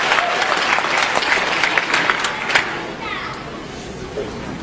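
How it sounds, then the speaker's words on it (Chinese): An audience claps to welcome a speaker, dense steady applause from a sizeable crowd that fades toward the end, with some chatter underneath. "大家掌声欢迎"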